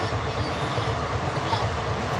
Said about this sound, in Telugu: మా ఇంటి ముందు ట్రైన్ పోతుంది